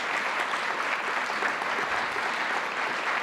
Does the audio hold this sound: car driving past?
no